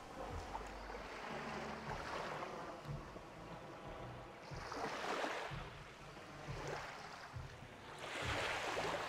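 Ocean waves wash in at a beach in Mossel Bay, South Africa, the surf swelling and receding in slow surges with wind buffeting the microphone; no one speaks.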